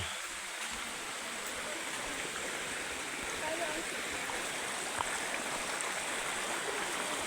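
Steady rushing of a flowing stream fed from Mayon Volcano fills the whole span, a continuous close-up babble of water with no pauses.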